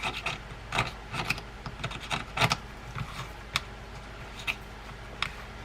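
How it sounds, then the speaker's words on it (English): A utility knife scrapes an old washer off the metal part of a Penn Jigmaster 500 fishing reel, making a series of short, uneven scratching and rasping strokes, close and fairly quiet, with small clicks of metal between them. "I'm going to use a utility knife to scrape it off"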